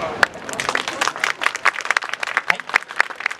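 Audience clapping in a quick, uneven patter at an outdoor yosakoi dance performance, fairly close, with a few voices murmuring underneath.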